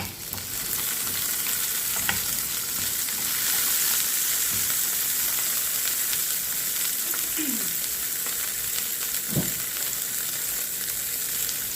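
Onion, garlic and tomato fry in hot oil with a constant close sizzle, broken by a few soft knocks and scrapes of a utensil against the pan.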